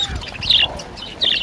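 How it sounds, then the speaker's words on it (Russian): Lovebirds at an outdoor bird market give bright, high chirps in quick bursts over a noisy background, with no speech. "Неразлучники."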